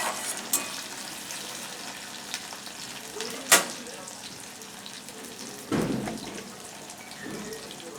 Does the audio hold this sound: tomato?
yes